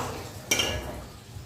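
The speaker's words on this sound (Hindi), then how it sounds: "अब इसमें मैं 2 चॉप्ड प्याज डाल दूँगी" Chopped onions dropped into about a quarter cup of oil in a kadai for chicken korma, giving one sudden clattering hiss that fades into a soft sizzle.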